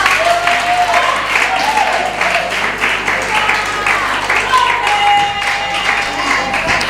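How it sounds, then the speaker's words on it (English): Audience applause follows a talk on superstition, myth and taboo, a steady wash of clapping from a crowd, loud and sustained throughout with faint voices mixed in. "Another big round of applause for my girl."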